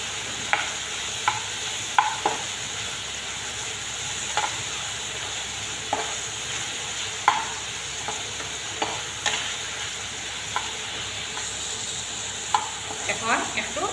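Ridge gourd with red chilli powder and turmeric cooks in a pan, giving a steady soft sizzle broken by scattered scraping clicks of stirring spread across the whole stretch, with no voices.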